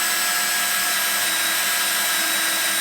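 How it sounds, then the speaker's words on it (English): Neiko titanium step drill bit boring through thick aluminum, a steady, loud, high-pitched whine of the power drill and cutting bit held close without a break. "when you're drilling through, you can kind of feel it hit that first step once it punctures through"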